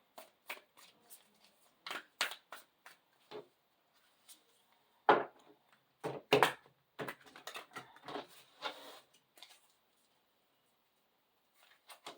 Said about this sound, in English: It's so hard to shuffle.